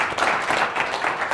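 Audience applause at a GCU Shark Tank pitch event, a dense, steady wash of many hands clapping together, loud and sustained before cutting off abruptly.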